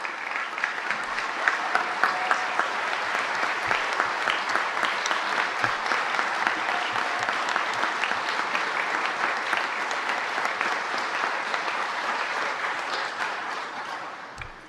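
An audience applauds steadily and loudly at a Los Angeles city council meeting to honor people standing, a dense wash of clapping that continues throughout and fades slightly near the end.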